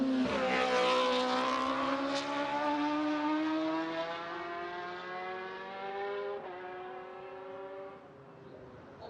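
A racing motorcycle at the Macau Grand Prix street circuit passes with a loud, high-revving engine whine whose pitch slides steadily downward as it goes by and fades.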